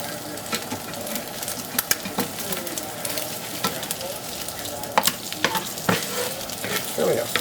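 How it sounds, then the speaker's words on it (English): Mackerel fillet frying in a hot pan after a flip, with a dense, close sizzle and crackle and repeated sharp spatters and utensil clicks scattered throughout; faint voice in the background. "we are going to give our mackerel a flip"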